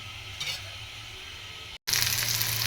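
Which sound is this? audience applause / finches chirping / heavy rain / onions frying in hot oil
onions frying in hot oil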